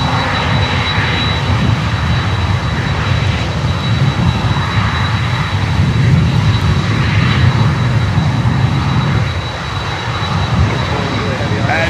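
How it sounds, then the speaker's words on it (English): An Amerijet Boeing 767 jet roars steadily as it lands on runway 8 at Miami airport, the loud, sustained engine noise filling the whole stretch with only slight swells. "there is Amerijet 767 coming in on runway 8"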